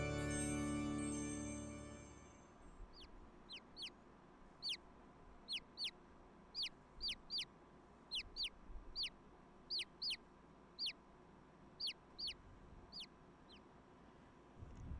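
Short bird calls from The Great Ace Attorney come in a loose, repeated series of about a dozen bright chirps after a low rumbling musical opening fades away, with no talking.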